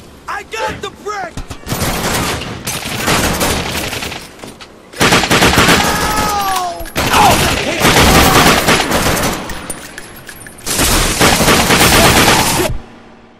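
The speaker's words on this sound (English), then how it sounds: "Taking heavy fire!" Heavy automatic gunfire from The Darkness 2 video game, sustained loud bursts of rapid fire separated by short pauses, with a voice talking at the start.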